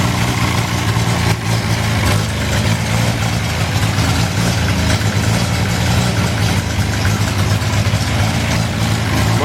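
The engine of a pre-war Wolseley 14/56 car idles with the choke pulled fully out, a loud, steady, close rumble holding evenly throughout with no voices.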